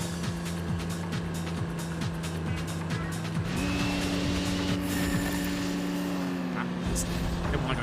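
Car driving in the video game Fist of the North Star: a steady engine drone with rising and falling revs and a shift in pitch midway, under layered game sound and music throughout.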